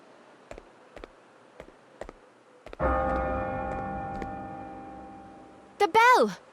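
In the video game Bravely Default II, a bell tolls once with a sustained, ringing tone that slowly decays, preceded by several soft ticks and followed by a brief bright chime.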